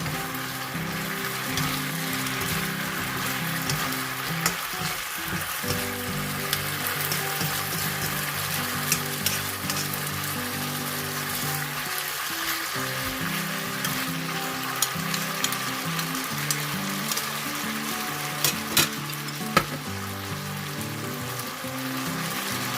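Wide rice noodles with chicken stir-fried in a pan for Thai pad see ew, a steady close sizzle and crackle running throughout with occasional scraping clatter, no voices.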